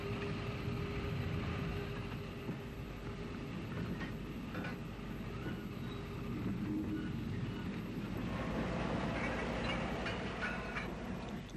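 A W2 tank steam locomotive working in railway sidings in Ulster, clearing locomotive ash, gives a steady, fairly distant rumble with faint clanking and rail noise throughout, growing slightly busier near the end.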